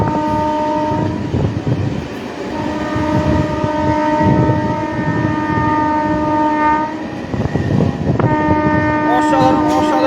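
Passenger train on the Amghata–Krishnanagar line rolling toward Krishnanagar Road station, loud steady rumble and clatter with a long sustained multi-tone horn blast, then a second horn sounding near the end.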